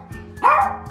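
A single sharp dog bark rings out once indoors, close and clear over a quiet room hum.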